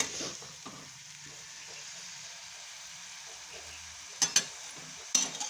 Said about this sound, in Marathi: आता मी हे वाटण आता तेल सुटेपर्यंत परतून घेतलंय